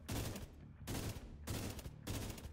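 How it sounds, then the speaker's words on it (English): Burst-fire weapon shooting in The Division 2, four sharp, evenly spaced volleys each lasting about half a second, loud and close with no talk. "Oh, so this is a burst fire."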